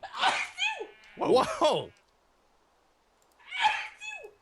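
Several short, squeaky sneezes in quick bursts with a pause before a final one, close and fairly loud, mixed with a voice reacting in surprise.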